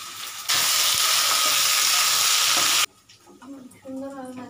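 Pumpkin pieces frying in a hot pan for a khichdi with moong dal and dalia, a loud, steady broadband sizzle that starts abruptly, holds for about two seconds, then cuts off, followed by softer kitchen sounds and quiet voices.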